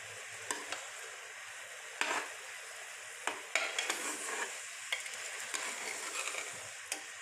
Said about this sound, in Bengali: এটাকে আমি ভুনা করে নেব